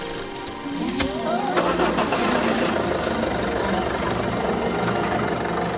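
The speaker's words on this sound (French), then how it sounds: "En route, démarrez le moteur." An engine, apparently a Peugeot car's, cranks and starts, then settles into a steady low running rumble mixed with sweeping tones and other staged sound effects in a radio drama.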